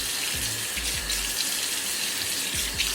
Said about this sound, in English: I just turned the water on